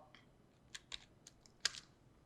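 Number keys and Enter are tapped on a computer keyboard while setting values in After Effects, with a few faint, sparse clicks and one sharper press near the end.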